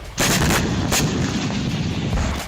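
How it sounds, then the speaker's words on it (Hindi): Heavy booming missile explosions in Damascus, Syria roll out one after another, loud and continuous, with rumbling echoes filling the space between them. "दिन के उजाले में इसी तरह एक के बाद एक मिसाइल विस्फोट हुए।"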